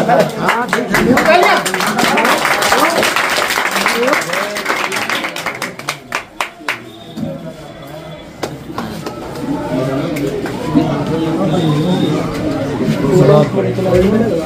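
A small audience claps at a creators' honouring event in Balrampur and Siddharth Nagar, with scattered claps under someone talking and crowd chatter throughout.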